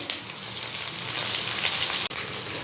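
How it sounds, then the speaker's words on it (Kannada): Cumin and onion fry in hot oil in a pan for a South Indian palak paneer gravy, a steady close, loud sizzle with a single short break. "ಇದನ್ನು ಸ್ವಲ್ಪ ಫ್ರೈ ಮಾಡ್ಕೊಬೇಕು"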